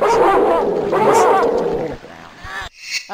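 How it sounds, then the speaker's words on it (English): Dogs bark and yelp loudly and close in a video game, a rapid flurry of barks over the first two seconds, then sparser yips and a short whimpering cry at the end. "Two dogs."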